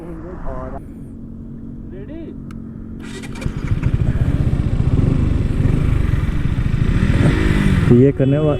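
A Yamaha R15 M and a KTM RC 200 motorcycle pull away together at the start of a long drag race, engines rising from idle into a loud, sustained revving roar, with someone speaking at the start and end.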